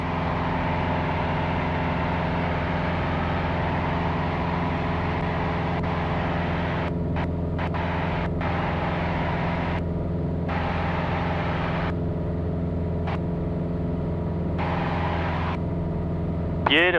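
A light aircraft engine drones in flight just after takeoff, a loud continuous harmonic hum heard from the cockpit with steady wind noise and brief clicks of intercom or radio.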